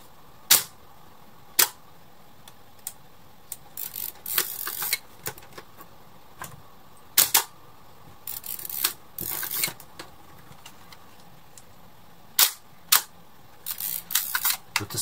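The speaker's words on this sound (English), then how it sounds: "The distinctive noise that Hasselblads make, the double clonk noise, is actually the noise of the mirror coming up, then going down again." Hasselblad 500C/M medium-format camera firing repeatedly, each release a sharp mechanical double clonk as the mirror flips up and drops back, with some rapid clusters of clicks and winding crank sounds between, close and clear with no talk.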